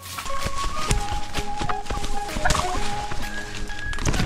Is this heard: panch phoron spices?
no